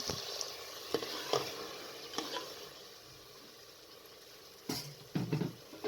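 Potatoes and moong dal with green chilies being stirred and mixed in a cooking pot, a soft steady sizzle underneath scattered spoon scrapes and a few louder knocks toward the end, fairly quiet overall.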